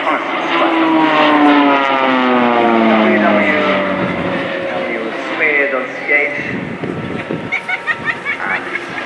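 A Swiss Air Force Pilatus PC-7 propeller plane flies a tight turn at an air display, its loud engine drone sweeping down in pitch as it passes close and then fades, with a commentator talking over it.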